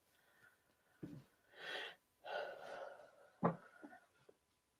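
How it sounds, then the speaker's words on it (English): A single person draws one deep breath through the nose and lets it out slowly, close and moderately loud in a quiet room, followed by a brief sharp sniff-like inhale and a softer trailing exhale. "let me take a deep breath"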